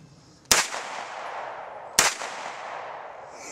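Two sharp 9mm pistol shots, fired with the gun held sideways, crack about 1.5 seconds apart, each followed by a long decaying echo tail in an outdoor setting.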